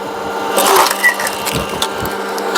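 An electro-hydraulic log splitter runs with a steady motor hum while wood crushes and splits, with cracking and splintering bursts standing out close by.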